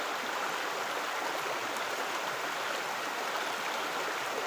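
Fast-flowing floodwater rushes in a steady, dense roar that stays even and unbroken throughout, close and loud, with no voices.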